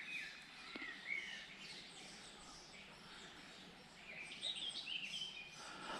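Birds sing in spring with faint, high chirps and short warbling phrases drifting in from a distance over a quiet outdoor hush.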